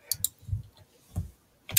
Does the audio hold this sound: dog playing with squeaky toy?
no